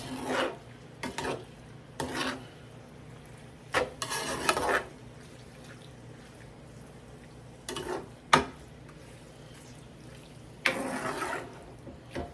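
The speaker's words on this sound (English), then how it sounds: "We'll mix all these onions and all that goodness, that garlic and onions in here." Onions and garlic are stirred with flour in a pan over a soft sizzle. Six or so scraping, shuffling bursts come at irregular intervals, with quieter frying in between and no talk.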